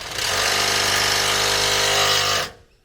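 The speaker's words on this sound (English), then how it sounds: "It's so that you can use your drill to make your socket set go." A power drill driving a socket set whirs loudly and steadily for about two seconds, then winds down and stops.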